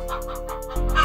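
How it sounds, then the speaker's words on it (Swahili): Chickens gathered in a group give a steady low clucking, close and moderately loud, with a denser burst of calls toward the end and no talking. "Queen, kuna kuku wengi sana hapa kwa ajili yako"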